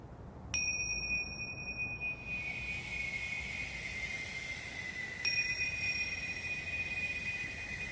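Meditation bell struck twice, each strike a clear bright ring that sustains and slowly fades, the second arriving partway through the decay of the first, alone against quiet room tone.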